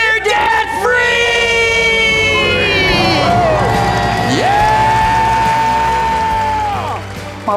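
A crowd of people scream, whoop and cheer together in a loud, sustained burst celebrating becoming debt-free, with several voices shouting over one another close by.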